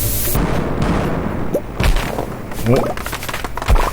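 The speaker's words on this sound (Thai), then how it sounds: "ระเบิดต้นไม้" Bombs exploding to clear trees in the video game Stardew Valley, a series of deep booming blasts with thuds and debris sounds, while excited voices talk over the action.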